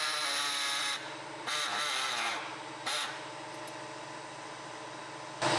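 A power cutting tool slices through a car body panel during rust repair, its steady high whine stopping and starting in several bursts of uneven length, close and fairly quiet.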